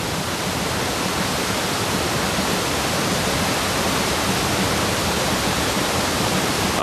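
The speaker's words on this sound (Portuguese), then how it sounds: "A água desce do platô elevado de Cherrapunji." Rainwater runs down off the high Cherrapunji plateau as a steady, loud, broadband rush of flowing water, even and unbroken with no voices.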